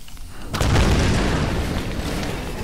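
A gunshot in the Tomb Raider video game triggers a loud, deep explosion that booms and then rumbles on for a couple of seconds after a brief quiet lead-in.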